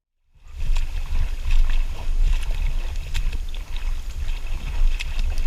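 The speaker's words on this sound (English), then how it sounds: "It's all the paddling I've been doing." Paddling in river water while tubing on the Neuse River, with a steady wash of water and low rumbling wind noise on the microphone, and scattered splashy strokes continuing without pause.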